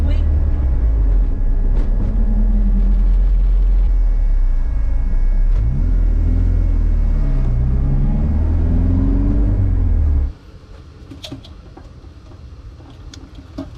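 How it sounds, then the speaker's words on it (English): A Honda CRX with a small turbo accelerates, a loud deep engine rumble rising in pitch with a faint whistle over it, then dropping off sharply as the throttle closes and the engine settles quieter. "I love how the small turbo spools up so quickly."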